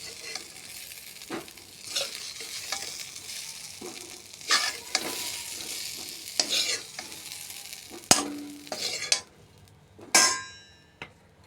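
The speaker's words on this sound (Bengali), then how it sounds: "হালকা করে ভেজে নিলাম আলু।" Potatoes fry lightly in a pan, with a low steady sizzle broken by repeated scraping stirs and a few sharp clanks of a utensil against the pan, growing louder near the end.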